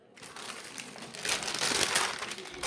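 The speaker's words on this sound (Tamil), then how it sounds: "இப்படி சிங்கிளாக இருக்கிற பேப்பரை இப்படி ரெட்டையாக மடித்து போட்டுடுறேன்." Paper crinkling and rustling up close as a single sheet is folded in half for cutting a sewing pattern for a classic brief, building to a louder crumple near the end.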